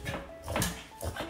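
A Boston Terrier whimpers and yips in short, close bursts over a second or so, with a little background noise.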